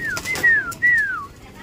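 Pigeon calls in a loft, two drawn-out whistling coos close by, fairly loud against a quiet background.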